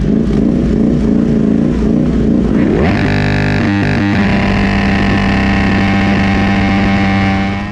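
Superbike race start with Ducati Panigale V4R and BMW machines: a loud roar of engines builds, then rises sharply into high-revving acceleration that holds on a strong, sustained howl, close and overwhelming.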